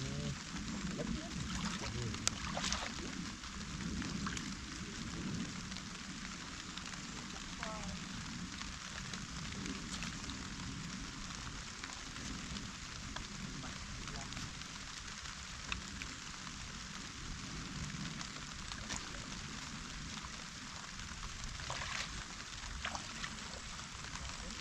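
Steady rain drums on plastic sheeting over a chili pepper planting field, a dense continuous patter with occasional louder drips, while people talk nearby throughout.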